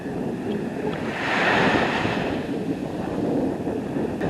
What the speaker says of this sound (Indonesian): Ini suasana laut di pagi hari di tempat kami camping.